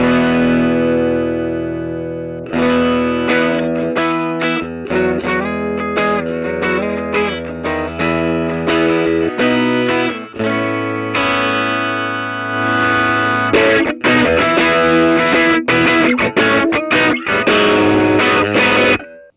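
Electric guitar plays a chord-driven riff through a 1996 ProCo RAT Big Box Reissue distortion pedal, gritty, loud and sustained, with no voices.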